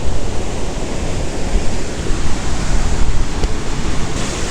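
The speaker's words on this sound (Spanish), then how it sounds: "Ahí viene el río" Rushing river water near the Tulimán waterfalls, a steady, loud broadband roar that holds evenly throughout, close and continuous with no talk over it.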